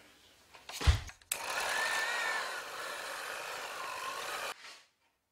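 An electric hand mixer beats crêpe batter in a bowl, starting with a clunk and then whirring steadily for about three seconds before cutting off, close and moderately loud.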